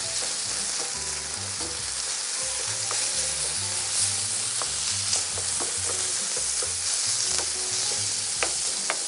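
Tomatoes sizzle and fry in a pan with browned beef while a utensil stirs and scrapes them, giving a steady close-up sizzle with scattered clicks and knocks throughout.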